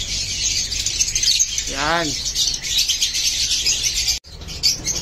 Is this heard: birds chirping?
yes